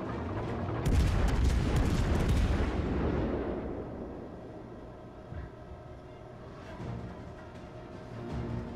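Naval artillery salvos from warship guns in World of Warships: Legends, a rapid cluster of heavy booming shots rolling into a long decaying rumble, then a quieter stretch with a few more distant thuds.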